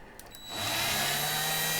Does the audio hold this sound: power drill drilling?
yes